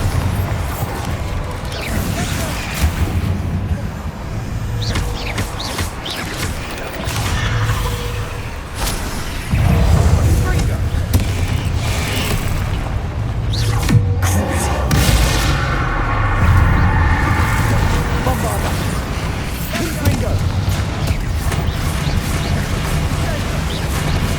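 A Bombarda blasting spell in the Hogwarts Legacy video game sets off heavy booming explosions with crashing debris, layered with game effects and a character's voice calling out spells.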